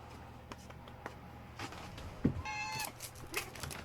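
A very small cat gives a short, clear meow near the middle, close by, amid light rustling and soft background noise.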